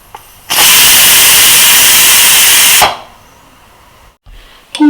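A pressure cooker on a gas stove, cooking carrot halwa, lets out one loud, sustained hissing whistle of about two seconds, then drops back to a low background hum.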